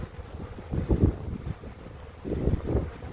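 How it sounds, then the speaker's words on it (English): Steady outdoor wind buffets the microphone beside an open honeybee hive, with low rumbling gusts that swell and fade across a few seconds and no talking. "The wind is picking up."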